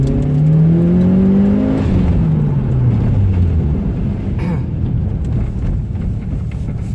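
Loud Mitsubishi Lancer Evolution VI engine revving hard in second gear, pitch climbing then dropping with a gear change, roaring close up before settling into a steady growl.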